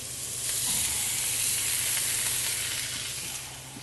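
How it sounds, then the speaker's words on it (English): Meat searing on a grill pan heated in a 400-degree oven: a continuous loud, close sizzle that swells and then eases slightly, with no voices. "I have my grill pan in the oven that I'm going to take. It's been in there on 400, and it's going to take a nice sear to the top of the meat"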